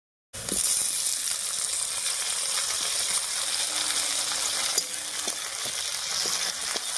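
Chopped tomatoes and green chillies frying in oil with browned onion and garlic for a cabbage and red lentil dish, giving a steady, close sizzle with light stirring scrapes and a few small clinks.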